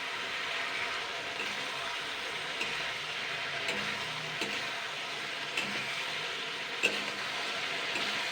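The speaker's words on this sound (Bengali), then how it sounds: "জাস্ট এক থেকে দেড় মিনিট নাড়াচাড়া করে নেবো" Egg chilli being stirred in a frying pan over gas, a continuous close sizzle with occasional soft scrapes and a sharp clink of the spatula, no voices.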